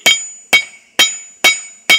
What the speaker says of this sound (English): what I'm doing now is I'm hammering down on the blade side